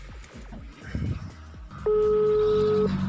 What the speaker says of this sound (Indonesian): Telepon biasa nggak masuk, masih memanggil.